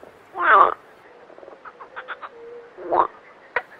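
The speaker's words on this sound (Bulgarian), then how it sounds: "Едната жаба каза на другата чрез сигнал с резонаторите си" Frogs give two loud, rasping croaks about two and a half seconds apart, with softer clicks and short pulsed calls between them, close and without any talk.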